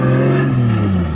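A brand-new Toyota 1JZ engine runs in a short, loud, close burst, its steady tonal hum easing slightly downward in pitch as the revs settle.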